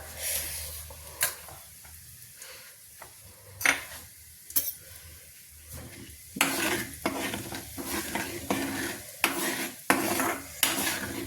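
Mustard seeds sizzle in hot oil in a pan, with a soft crackle beneath loud metallic clinks and scrapes of a spoon against the pan that come in bursts and grow busier toward the end, with no voices.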